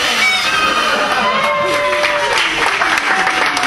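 A circus audience bursts into applause with cheering and whoops, a loud, dense crowd sound mixed with shouting voices that carries through the whole short stretch.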